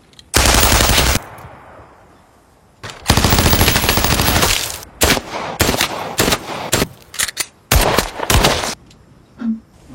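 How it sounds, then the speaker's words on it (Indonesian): Heavy gunfire in a film war scene: long, loud bursts of automatic fire alternate with clusters of sharp single shots and brief pauses, close and forceful throughout. "Stewart membuktikan keahliannya menembak"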